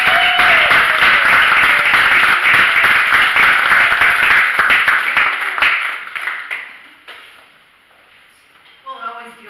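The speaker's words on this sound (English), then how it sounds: "it always feels good to get a round of applause" Loud, dense applause from a church congregation, sustained for several seconds before thinning out and fading to near silence.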